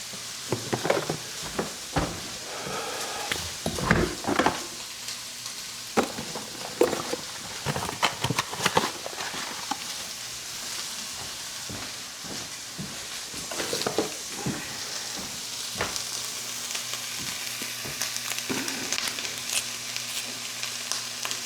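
Shrimp frying in a pan with seasoning and butter, an ongoing moderate sizzle mixed with repeated clattering knocks of a utensil against the pan.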